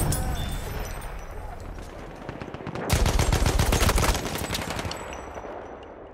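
Rapid machine gun fire in Battlefield 1 rattles in dense bursts, swelling louder and closer in the middle against a busy battlefield backdrop.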